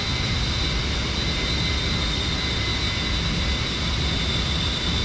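An A-10C jet throttled up in the DCS flight simulator, a steady loud engine roar with a constant high whine.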